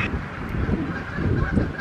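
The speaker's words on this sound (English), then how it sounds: "Oh, there goes some geese." Outdoors near woods and a hidden cemetery, a flock of geese honks overhead, several overlapping nasal calls in quick irregular bursts, moderately loud against faint wind.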